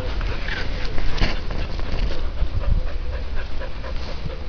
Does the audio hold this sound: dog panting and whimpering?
yes